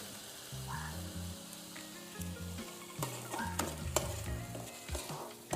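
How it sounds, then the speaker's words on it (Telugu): Tomatoes fry in hot oil for a Pulivendula-style fish curry, a steady close sizzle with a spoon stirring and scraping the pan now and then. "నిజంగా టమాటా కూడా బాగా వేగి పచ్చివాసన పోయి వేగింది."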